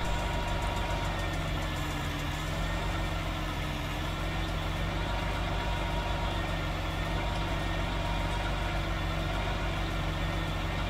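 A tractor engine idles in Farming Simulator 19, a steady, even low rumble with a faint knocking texture that continues unchanged throughout, with no one talking.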